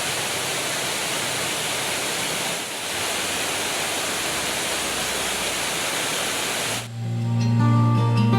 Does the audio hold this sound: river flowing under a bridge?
yes